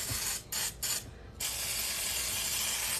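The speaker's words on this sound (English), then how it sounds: "I gotta pump it a little more to get that pressurized in there" A pump oil sprayer hisses steadily in a kitchen, cut by a few brief pauses at the start before spraying continuously.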